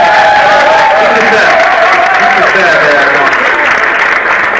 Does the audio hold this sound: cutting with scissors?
no